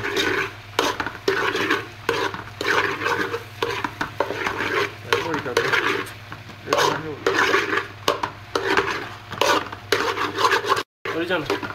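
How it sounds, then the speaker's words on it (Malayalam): Camel meat being stirred with coriander and chilli powder in a pan, a steady run of scraping, rubbing stirs with light clinks of a utensil against metal, close and continuous with no talk. "എന്നിട്ട് ഇത് നന്നായി ഒന്ന് ഇളക്കിയെടുക്കുക"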